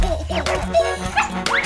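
A cartoon dog barks and yips in short, bright bursts over an upbeat children's song, the yelps rising and falling against steady music.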